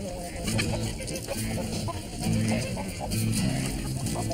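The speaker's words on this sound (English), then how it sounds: "These are my chickens." Chickens cluck in short repeated bursts at close range against a busy, noisy background, their calls rising and falling in a loose rhythm.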